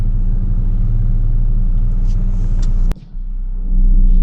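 Chevrolet S10 pickup truck driving along a country road, a steady close low engine and road rumble inside the cab, briefly dropping with a click before the drone returns louder.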